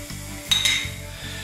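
Beetroot frying in a pan for borscht, a soft steady sizzle with a few light clinks of a utensil against the pan and rhythmic stirring scrapes, close and without talk.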